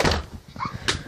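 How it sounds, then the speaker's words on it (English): A door is shut close by with a firm thunk. A rustle comes before it, and a short higher knock or click follows, with no talking at the moment of the shut. "Shut the door."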